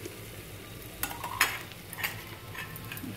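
Chilli-coriander paste fries and gets stirred in a pot for chicken biryani, giving a soft steady sizzle with a few sharper scraping clinks of a spoon against the metal, alone and fairly quiet.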